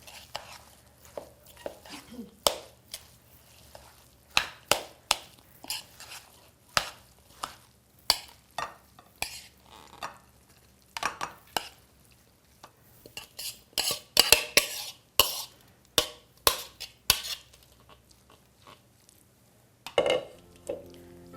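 Utensil stirs and clinks through a Spanish rice mixture with canned black olives in a bowl, a series of sharp scraping taps in irregular bursts, fairly close and with no talking.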